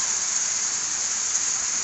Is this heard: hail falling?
yes